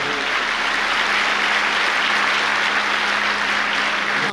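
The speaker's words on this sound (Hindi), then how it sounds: "पवित्र आत्मा वाली ताली बजाइए एक बार" A church congregation claps loudly and steadily, a dense and sustained wash of many hands with no gaps.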